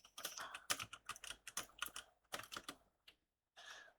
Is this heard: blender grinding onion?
no